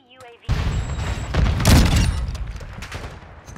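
Sniper rifle fire in Modern Warfare 2, played on mouse and keyboard: a sharp close shot followed by a heavier booming blast with a rolling echo that fades slowly, set against game ambience.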